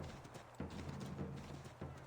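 Steady clip-clop of horse hooves trotting on a hard surface in an Assassin's Creed video game, rhythmic and fairly close, with no talking.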